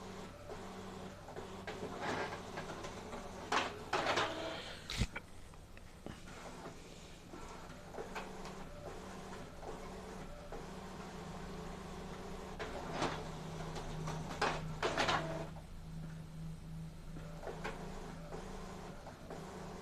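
An Epson L11050 printer doing duplex printing in quiet mode, a low steady mechanical whir with soft clicks and paper-feed shuffles at a moderate distance, no talk.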